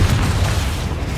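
A fiery Confringo spell explosion in Hogwarts Legacy, a deep continuous booming rumble, loud and close, filling the whole short moment without any voices.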